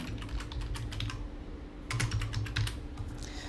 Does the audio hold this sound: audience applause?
no